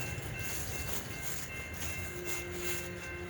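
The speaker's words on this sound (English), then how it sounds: "So they're gonna back the train up to the certain stop." A freight train backing up on a railroad at night, hauled by GP diesel locomotives in Valliant, Oklahoma, gives a steady low rumble of rolling rail cars, continuous and moderately close, with no voices.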